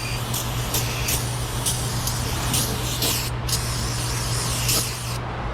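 Repeated short hiss bursts of cleaner spray on oil residue, working on a 2018 Mazda 3 after an oil drain plug is torqued, steady and close over a constant low hum.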